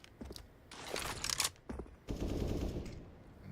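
Rapid rifle bursts crackle in a Counter-Strike pro match between Complexity and Evil Geniuses, several clusters of sharp shots separated by short pauses, fairly distant and moderately loud.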